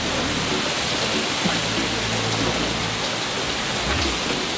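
Steady rain pattering on a sailboat moored near a restaurant, a dense, even hiss of drops on deck and rigging, continuous and fairly close, with no talk.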